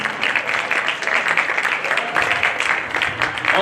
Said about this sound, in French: On applaudit pour Ofo d'un grand bruit.